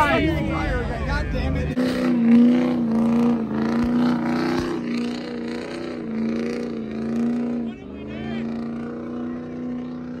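A car drives off during a burnout session, its engine droning and shifting pitch loudly nearby while several people talk and shout over it.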